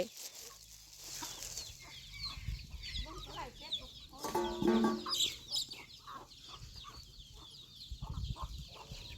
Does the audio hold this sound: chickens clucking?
yes